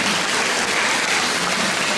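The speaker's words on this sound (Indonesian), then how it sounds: "Tepuk tangan buat Tuhan." A congregation at an elderly fellowship gathering in an HKBP church claps together in dense, steady applause that fills the whole moment without any talk.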